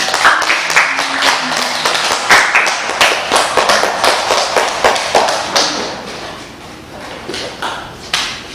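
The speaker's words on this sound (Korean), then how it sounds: "목사님 나오실 때 박수 부탁드립니다." A congregation at a church summer retreat for young deaf adults in Daejeon applauds the pastor's entrance with loud, dense, sustained clapping that fades slightly toward the end.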